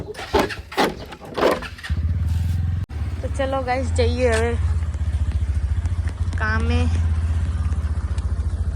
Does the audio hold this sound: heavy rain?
no